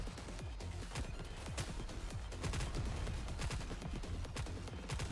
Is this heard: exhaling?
no